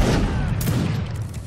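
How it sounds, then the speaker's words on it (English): Loud, dense gunfire volley from an online shooter game match, a continuous crackling fusillade with booming low end filling the short moment. "they're shooting at me again"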